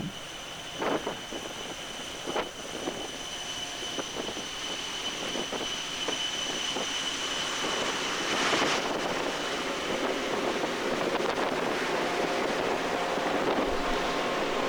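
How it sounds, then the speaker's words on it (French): Steady wind-driven rumble with scattered creaks and knocks from a ship, a sustained high whine running through, and a louder groaning surge midway. "Ça griche un peu parce qu'il vente"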